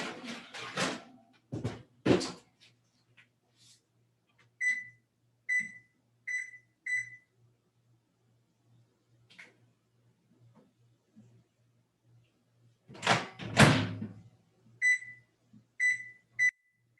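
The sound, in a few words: microwave timer beeping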